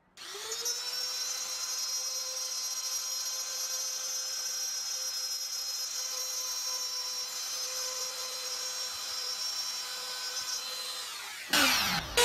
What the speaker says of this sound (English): this is a good time to cut this epoxy heart